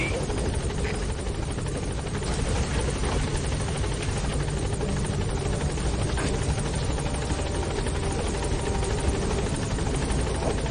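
Helicopter rotor and engine roar from the Pequod transport helicopter in Metal Gear Solid 5, holding steady and loud throughout as it arrives at the landing zone, with radio voices over it.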